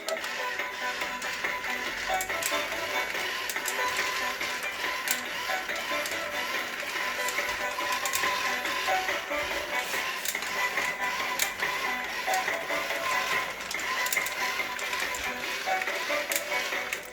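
Clicking, whirring plastic gear mechanism of a JIA-QI TT903 Robokid toy robot running steadily and close, a dense busy rattle of small taps that continues without pause and without voices.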